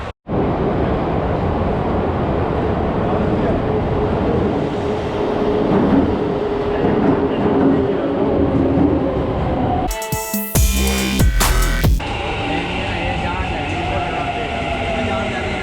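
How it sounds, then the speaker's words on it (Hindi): A driverless Yurikamome line metro train in Tokyo rumbles into the station with a steady roar and rattling, followed by a brief burst of loud clatter and hissing brakes. "ये आ गई है मेट्रो जो कि जाएगी ऑटो स्टेशन जहां हमने जाना है"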